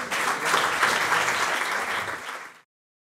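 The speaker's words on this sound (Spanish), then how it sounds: "Un aplauso para él, por favor" Audience applause after the introduction of Spain's Secretary of State for Social Security at an event marking 30 years of the Toledo Pact, steady dense clapping for about two and a half seconds before cutting off abruptly.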